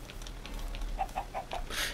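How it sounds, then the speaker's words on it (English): A video game chicken gives a short run of soft, evenly spaced clucks, fairly faint and heard on its own, with a brief rustling burst at the end. "Chicken."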